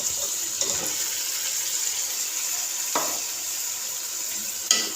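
A steady, close sizzle of chicken frying in a karahi, broken by a few soft clanks and stirring scrapes, with no one speaking.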